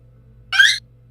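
A voice imitates an excited lizard folk creature during a tabletop fantasy game, a single short raspy, hissing burst of about a quarter second, fairly close and loud, over a low steady hum.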